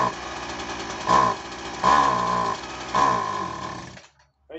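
A two-stroke leaf blower runs with its air filter removed, idling steadily and revving three times in short surges before cutting out near the end.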